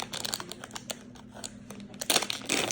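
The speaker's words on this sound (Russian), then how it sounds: "Первый откроем, давайте вот этот вот пакетик средний." A Poopsie Slime toy packet being opened, with crinkling, tearing plastic close up, small rustles building to a louder ripping burst near the end.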